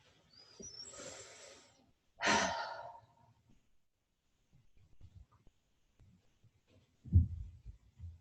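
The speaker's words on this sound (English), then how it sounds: "A few more breaths here." Slow, audible breaths are drawn in and let out during a held yin yoga pose, a close exhale or sigh followed by quieter breathing and a soft thump near the end.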